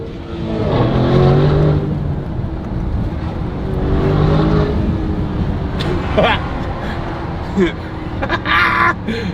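Car fitted with aftermarket downpipes accelerating, its exhaust rising and falling in loud revving surges heard from inside the cabin, with people talking and exclaiming over it.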